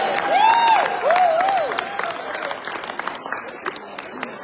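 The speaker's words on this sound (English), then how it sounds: "Keep clapping, keep clapping, keep clapping" An audience at a high school grand reunion banquet and awards ceremony claps steadily, with whoops and whistles rising over the dense applause early on before the sound gradually thins and softens.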